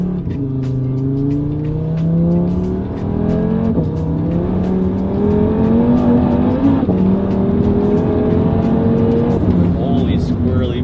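A front-wheel drive car with a newly fitted downpipe revs hard, its engine tone rising and falling in repeated loud pulls with raspy exhaust, recorded close by while people talk underneath.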